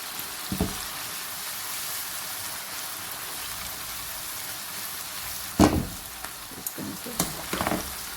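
Chili pepper chicken manchurian with salt sizzles quietly in a pan while being sautéed and stirred, a soft steady crackle broken by a few louder scrapes and clatters of stirring.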